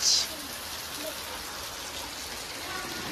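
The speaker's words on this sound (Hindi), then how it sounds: "देखिए केते प्रबल मात्रा रे वर्षा होजी" Heavy rain pours steadily in a village during the rainy season, a dense, continuous hiss of drops hitting surfaces that holds throughout, with a brief brighter splash at the start.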